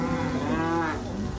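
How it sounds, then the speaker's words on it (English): A cow lets out one long, loud, close moo while cattle swim through floodwaters, the call rising and falling over steady background noise. "Elaine and Darcy feared their cattle would be lost until some came swimming up to the front yard"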